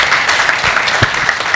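Audience clapping at a Rotary Club installation ceremony in Ahmedabad, a steady broadband patter of many hands held at even strength for the whole stretch, with no voices over it.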